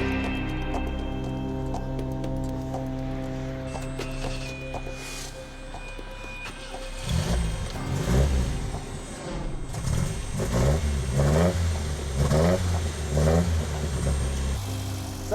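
A classic MGB car engine idles slightly high after vacuum line repairs, giving a low steady hum that turns into a louder, lumpy, pulsing rumble over the second half, with no talking.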